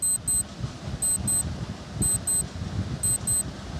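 A countdown timer during a quiz marks time with crisp, high electronic beeps in quick pairs repeating about once per second over faint background hiss.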